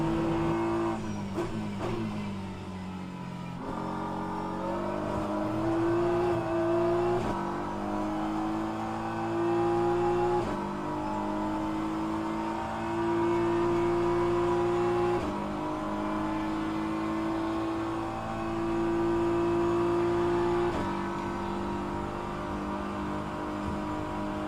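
Hypercar engine at Interlagos in rFactor 2, a steady loud drone that rises and falls through gear changes and throttle lifts, heard alone with no talk.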